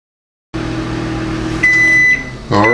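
An Amazon Smart Oven running auto reheat hums steadily with a low drone, then a bright electronic beep sounds and the hum stops briefly before resuming.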